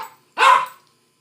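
A dog lets out a single sharp, loud bark close by, preceded by a faint trailing sound and followed by silence.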